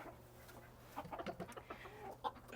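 Silkie chickens cluck softly inside a coop, a cluster of short, irregular clucks and chatter rising after a quiet start, faint and close with low background hum.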